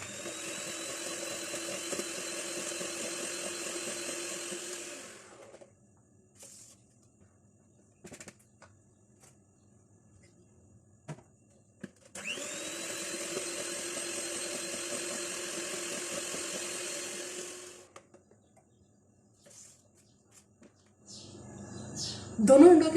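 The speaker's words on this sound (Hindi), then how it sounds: "फिर दूसरा अंडा डाल के भी इसको इसी तरह से बीट कर लेंगे।" An electric hand beater whirs through butter, sugar and eggs for a honey marble cake, its steady high motor whine running for a few seconds, stopping, then starting again in a second equally long burst, with faint clicks between.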